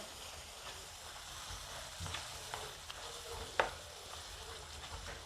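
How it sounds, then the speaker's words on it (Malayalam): Mashed brinjal being stirred into curry in a pan, a faint, low sizzle with scattered soft taps and scrapes from the spoon, one sharper clink midway. "നല്ല പോലെ ഒടച്ച് വെച്ചിരിക്കുന്ന നമ്മുടെ വഴുതനങ്ങ ഒന്ന് ചേർത്ത് കൊടുക്കാം ഇനി നന്നായിട്ടൊന്ന് മിക്സ് ചെയ്യാവേ"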